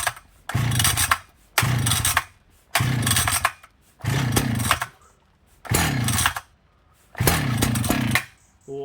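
A vintage Husqvarna L77 chainsaw, started cold on choke, fires and runs in six loud, close revving bursts of about a second each, separated by short quieter pauses, with no talk.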